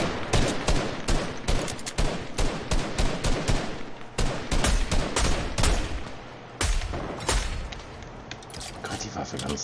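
Rapid bursts of gunfire in Fortnite, sharp repeated shots in quick volleys with brief gaps, loud and close, with a voice talking over parts of it.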